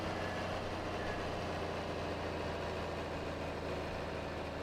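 A John Deere 4020 tractor engine idling in Farming Simulator 22, a steady low rumbling drone that holds constant and close throughout, with no talk.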